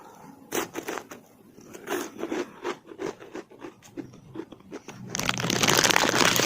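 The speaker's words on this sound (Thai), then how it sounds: "ได้ยินความกรอบจะรู้ว่าแบบ มันกรอบฟูมาก" Crispy cheese-flavoured chicken-leg snack crunched repeatedly up close, a quick run of sharp, irregular bites, then a loud, dense burst of crinkling near the end.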